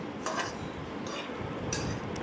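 A spatula stirring fried rice with vegetables in a pan, light metallic scrapes and ticks at an unhurried rhythm over a soft steady sizzle.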